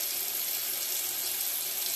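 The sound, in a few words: water running from a tap to wash face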